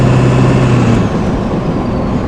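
A Ford OBS truck with an electric fuel system being driven briefly, a loud steady low engine drone with a humming tone that eases after a second, close and continuous with no talk.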